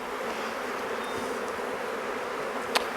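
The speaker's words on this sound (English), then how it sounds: "The bees are starting to fly up a little bit" Honey bees buzzing around an open Maisemore poly commercial hive during an inspection, a dense steady drone close by, with one brief sharp tap near the end.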